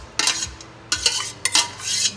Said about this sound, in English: we're gonna dump the rest of the pasta